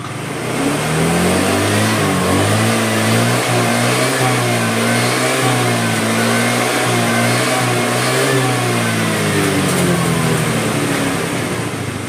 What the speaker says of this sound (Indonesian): jadi ketika pakai aki normal, saya gas ya,